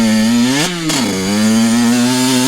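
A 110cc pit bike engine revs hard and steady near by, a strong buzzing drone that dips briefly before climbing back up to high revs as it hits the power band.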